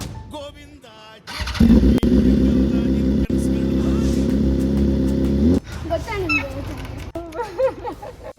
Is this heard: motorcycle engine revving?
yes